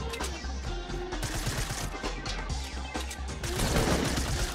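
Fortnite gunfire cracks in a busy exchange, a string of sharp shots with louder blasts spaced out, among crunching impacts, close and loud with no clear speech.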